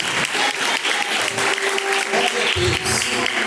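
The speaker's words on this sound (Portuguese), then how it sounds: "Vamos bater palmas para Jesus." A church congregation breaks into dense, continuous applause, loud and close, with cheering voices and a faint sustained tone underneath throughout.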